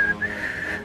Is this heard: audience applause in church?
no